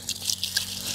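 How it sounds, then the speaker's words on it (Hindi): Water splashes and trickles over a freshly pulled radish as it is rinsed by hand outdoors in a village, a steady close run of drips and light pouring with no talk. "अब हम इस मूली को धो लेते हैं पानी के साथ"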